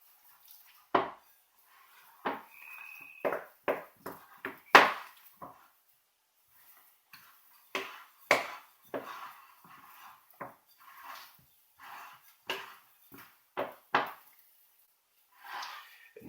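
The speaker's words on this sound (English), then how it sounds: "I'm just going to do it the old-fashioned way with a wooden spoon. So for a few minutes here, stir it around best you can" A wooden spoon knocking and scraping through pita bread dough in a bowl, irregular dull thuds and taps in short bursts separated by quiet pauses, close up.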